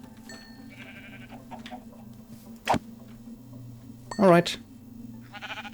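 Sheep in a video game bleat in two short calls, the second longer and louder, over steady background game music, with someone talking briefly.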